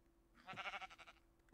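A single sheep bleat from a video game, a short wavering cry lasting about a second, heard alone and fairly close.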